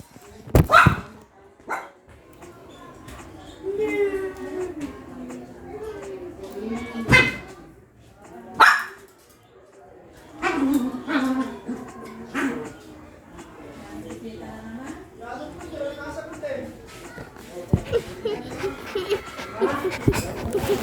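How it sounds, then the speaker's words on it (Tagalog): Happy, a pet dog, gives scattered sharp barks and yips, loud and close, spaced between stretches of people talking nearby. "Ingay ng aso namin."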